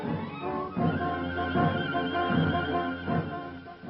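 A horse neighs loudly and close, a long shrill whinny that rises and wavers for several seconds, with no talking.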